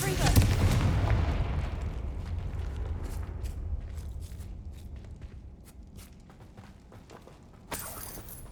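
A heavy booming blast from the Confringo fire spell in Hogwarts Legacy, loud at the start and rumbling away over several seconds, followed by a second burst near the end.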